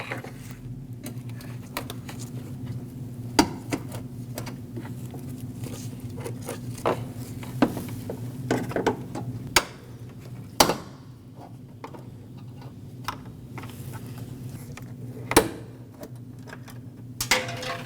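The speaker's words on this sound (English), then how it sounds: "we have 3 push clips, 1 in the middle, 1 on the right, and 1 on the left that we need to pop out with a trim tool" A plastic trim tool pries push clips out of a 2005-2021 Nissan Frontier front bumper cover. A few distinct close pops and snaps stand out over faint scraping and handling noise.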